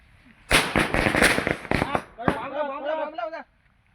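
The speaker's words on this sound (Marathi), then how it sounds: "चला चला बॉम्ब लाव" Firecracker bombs go off at a Vagh Baras festival celebration: a rapid, loud run of crackling bangs and pops for about a second and a half, then voices calling out and laughing.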